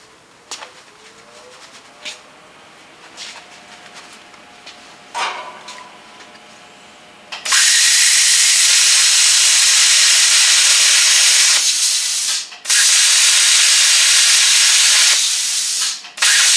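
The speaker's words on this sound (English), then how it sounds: "Fire it up for just a second and make a little cut" A plasma cutter fired up for a short cut, a loud, steady hissing roar of about nine seconds with a brief dip partway through, preceded by quieter clicks and handling noises.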